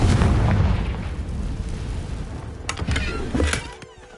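A Confringo fire spell in the video game Hogwarts Legacy detonates with a loud, close boom that rumbles and fades, followed by scattered crackling debris and a couple of sharp pops.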